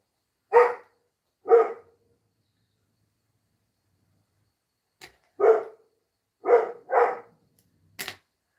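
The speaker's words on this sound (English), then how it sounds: "it's either listen to him bark or listen to me scream at him to not bark" A pet dog indoors barking at a delivery arrival: two sharp barks, a pause of a few seconds, then a cluster of four more barks, plus a couple of faint clicks, with no talking.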